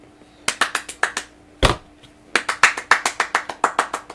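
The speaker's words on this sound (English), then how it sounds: "gave him a golf clap" A standing audience gives a sparse golf clap: a handful of separate claps spaced out, a short pause with one louder clap, then a steadier run of polite claps close by, with no talk.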